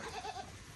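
A single short goat bleat, close and fairly soft, with a wavering nasal tone.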